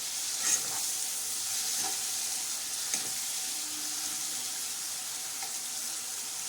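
Lemons and chillies fry over low heat while being stirred in a pan. A steady, close sizzle runs throughout, with a few faint scrapes and taps of the stirring spoon.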